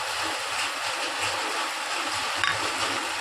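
Pointed gourd being stir-fried with gram flour in a pan gives a soft, continuous frying hiss with faint stirring scrapes, low in level and with no voices.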